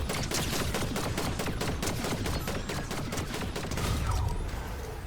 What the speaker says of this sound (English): Okay, they're shooting at each other now.